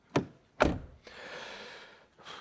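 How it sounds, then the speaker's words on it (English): Jeep Avenger 4xe car doors shutting: two sharp, close thunks in quick succession, followed by a softer rustling hiss and a faint click at the end. "then door closing sound."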